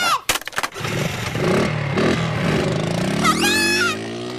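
A scooter engine revs and pulls away nearby in a cartoon scene, its rising drone swelling over a few seconds amid a clatter and background music.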